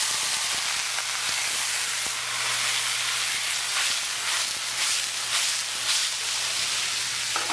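Stock hits a hot pan of seared steak and porcini mushrooms, producing a steady, close, broadband sizzle and hiss that holds for the whole stretch.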